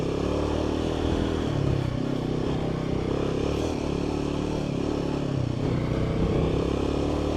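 An adventure motorcycle rides off-road through mud. Its engine drones steadily and loudly, close by, with the pitch rising and falling as the throttle is worked, and some rattling and clatter underneath.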